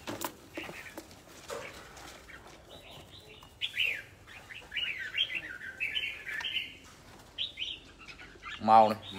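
Birds chirp in short, bright tweets and trills, some close and loud, amid faint background noise and occasional voices.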